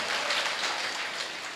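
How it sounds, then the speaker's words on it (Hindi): Loud, steady applause from a mushaira and kavi sammelan audience in Harra, Meerut, cheering poet Khushboo Sharma; a dense, continuous wash of many hands clapping without a break. "एक बार जोरदार तालियां खुशबू शर्मा साहिबा के लिए।"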